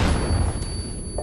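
Grenade blast in the video game Modern Warfare 2, a brief, heavy, low boom that rumbles and fades within a second.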